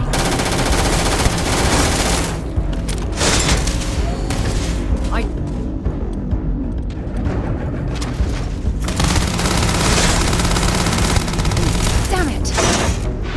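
Gunfire from the video game Starfield rattles nonstop in dense automatic bursts and booms, loud and close, with a voice speaking over the battle.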